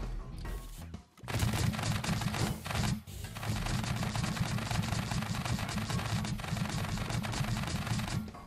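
Rapid automatic gunfire from a farmbot in the Scrap Mechanic game, shooting at a piston-powered walking mech, rattles on loud and near in a dense continuous stream, broken by two brief pauses.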